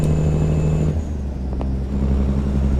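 Cummins N14 engine mod on a truck in American Truck Simulator, a loud low idling rumble that drops in pitch partway through, with a brief higher mechanical whine and no talk.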